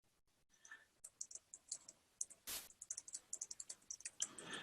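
Keys clatter on a computer keyboard while an answer is entered into an online test question, a quick irregular run of close, crisp clicks with short pauses.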